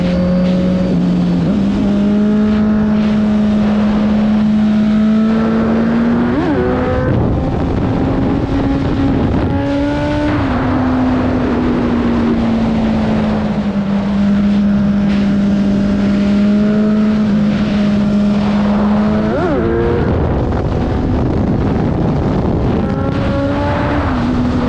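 Kawasaki Z900 motorcycle engine revving hard through the gears during a wheelie, loud and steady with rising and falling pitch at each shift, under heavy wind buffeting on the microphone.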